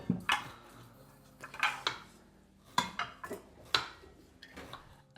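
Food being tipped into a pan in a home kitchen, with a series of sharp clinks and metallic knocks of utensils against cookware arriving in small irregular clusters, fairly close and otherwise quiet.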